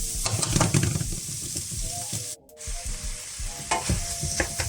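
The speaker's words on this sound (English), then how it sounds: "now we're gonna add our bean sprouts" Bean sprouts stir-frying in a hot pan for Spam fried rice, a close, steady sizzle with scraping stirs and a brief dip in the middle before the frying resumes.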